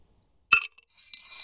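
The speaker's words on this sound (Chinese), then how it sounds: "波士顿摇酒壶中加入冰块" Ice cubes drop into a Boston cocktail shaker, one sharp glassy clink followed by quieter rattling and a small second clack, with no voices.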